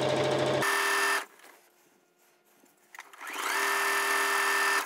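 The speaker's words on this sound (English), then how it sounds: "I'm sewing a quarter of an inch seam allowance here" A sewing machine stitching quilt binding with a quarter-inch seam allowance, a loud close mechanical whir that runs, stops for a quiet pause, then starts up again.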